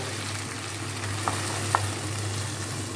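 Cumin and ginger paste sizzles and fries steadily in a pan on a gas stove, a constant soft crackle with a couple of faint stirring clinks.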